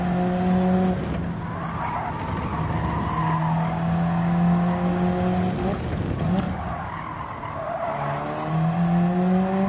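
A race car in Gran Turismo 7 revving hard through the gears, engine notes rising and dropping with gear changes while tires squeal through corners, loud and continuous.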